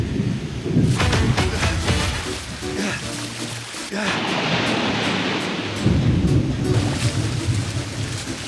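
Deep rumbling thunder rolls through a heavy wash of rain and splashing water in an animated show, loud and continuous with swelling bursts.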